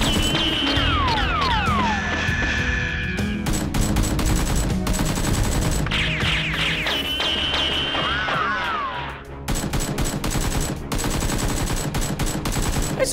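Nerf guns firing in a mock fight, rapid continuous popping bursts with whistling tones over a busy, loud mix, with little talk.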